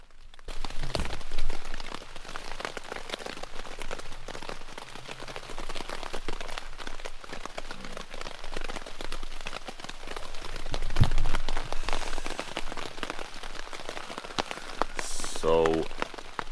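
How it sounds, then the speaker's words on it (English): Rain falls steadily outside a tent at an early-morning wild camp in the New Forest, a dense patter of drops on fabric with brief rustles and a voice speaking over it. "And it's raining outside."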